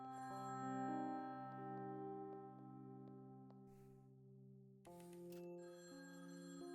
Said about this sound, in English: Oh, why is the phone ringing?